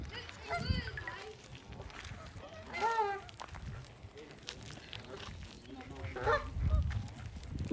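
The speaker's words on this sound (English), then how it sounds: "So as you can see, all the geese and ducks." Geese honk repeatedly at a nature reserve, several loud calls near and at middle distance with ducks about, over footsteps and outdoor noise while people talk.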